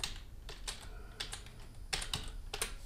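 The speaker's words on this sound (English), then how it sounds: "then I'll type in agoraphobia" Quiet, close keystrokes on a computer keyboard, a quick irregular run of clicks with brief pauses and no voices.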